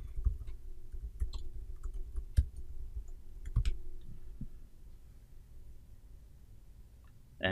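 Scattered computer mouse clicks, sharp and close, land irregularly over a soft background hum, with no voice.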